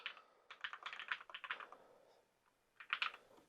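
Typing on a quiet split wireless keyboard, with soft, muted key clicks in short irregular bursts, a pause, then another brief flurry, all faint and close.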